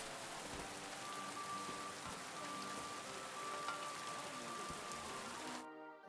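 Steady rain falling on surfaces in the video game Kingdom Come Deliverance 2: an even, dense patter of raindrops heard alone, with no talk, before cutting off abruptly at the end.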